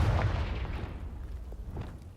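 A Confringo blasting spell explodes in Hogwarts Legacy: a single loud, deep boom hits at once, then rumbles and fades away over about two seconds, with faint crackles in the tail.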